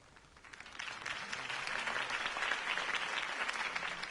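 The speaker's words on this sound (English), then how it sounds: "If only Mr. Wayne, my campaign's largest backer, could have heard that applause" Crowd applause swells after a campaign speech in the Batman Telltale video game, a dense steady clapping that builds from quieter to full and holds without voices.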